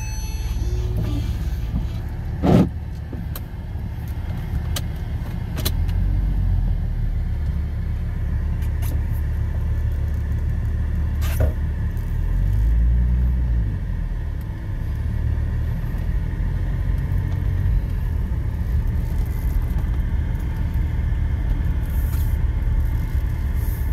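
A Porsche 911 Turbo drives along with a loud, steady low engine drone and road rumble heard from inside the car, plus a few brief clicks and knocks.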